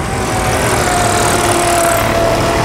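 A near-stock MBK Swing scooter with a lightly tuned engine and an expansion exhaust drones loudly and steadily up close at a motorbike circuit meet, a continuous buzzing two-stroke note with no voices over it.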